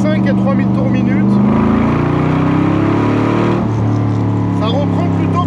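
A 1960s Corvette C2 with a 375-horsepower V8 pulls in second gear between roughly 2,500 and 3,000 rpm, giving a loud, steady low rumble that holds throughout while someone talks over it.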